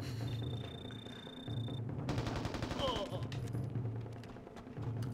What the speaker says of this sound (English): Let's try the artillery strike.